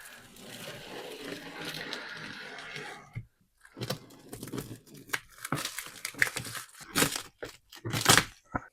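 Plastic and paper wrapping crinkle, tear and crackle close up while a parcel holding a WE Gen 3 M4A1 airsoft replica is unpacked, starting as a dense rustle and then breaking into sharp, irregular crunches and rips.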